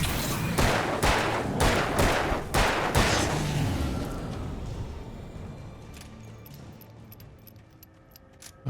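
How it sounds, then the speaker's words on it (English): Fireworks burst over a stadium in the Alan Wake video game, a run of loud sharp cracks and booms in quick succession at first, then fading into a long crackling rumble with faint pops trailing off. "That's fireworks, yeah."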